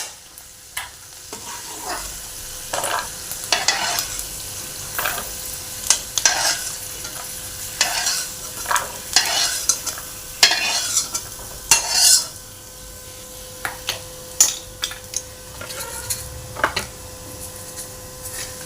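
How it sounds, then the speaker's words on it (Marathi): Peanuts frying in hot oil in a pan, a low sizzle under repeated scraping and clattering strokes of a spoon stirring them, uneven bursts close by. "खरपूस असे शेंगदाणे तळून घ्यायचे।"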